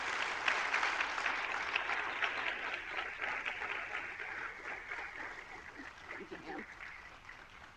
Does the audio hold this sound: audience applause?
yes